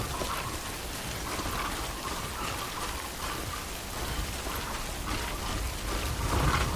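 Timefall rain in the Death Stranding video game hisses steadily as a dense, even downpour, moderately loud and unbroken with no talking.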